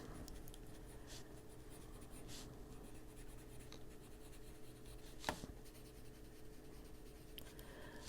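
A coloring pencil scratches on plain white paper in soft, steady strokes for adult coloring, close and quiet, with a few sharper taps and no talking.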